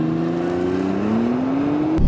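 A 2017 Nissan GT-R NISMO engine hums steadily, its pitch climbing smoothly under throttle before a sudden louder burst at the end, heard close from inside the car.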